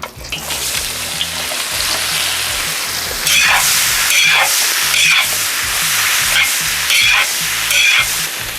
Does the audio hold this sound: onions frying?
yes